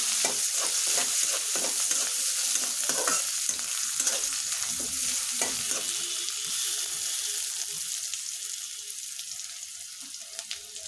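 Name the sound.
stirring onions with bay leaf frying in a pan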